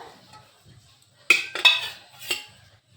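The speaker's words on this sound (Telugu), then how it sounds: "ఇప్పుడు స్టవ్ మీద ఒక కడాయి పెట్టి కడాయి వేడైనాక" A kadai pan is set down on a stove, making a few close, sharp metallic clanks and knocks in quick succession, with quiet between them.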